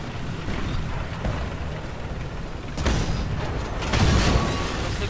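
A tank cannon fires in War Thunder, a heavy booming blast that bursts over a constant rumbling engine and ambient battlefield drone, followed by a second loud surge of noise moments later.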